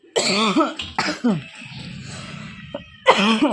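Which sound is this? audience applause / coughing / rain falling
coughing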